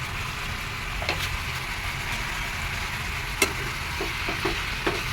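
Pumpkin leaves cook in a pan with a faint steady sizzle, punctuated by occasional light scrapes and clinks as the greens are stirred, with no talk.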